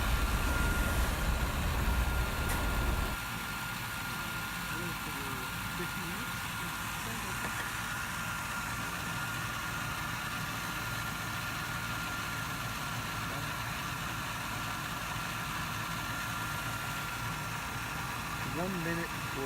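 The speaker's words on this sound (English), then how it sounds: "Let vehicle idle with cap on for 50 minutes, maintaining normal operating temperature." A Ford F150 engine idles steadily during a Blue Devil head gasket treatment, giving a continuous low rumble heard close by. A louder burst comes at the start, and voices talk faintly under the idle.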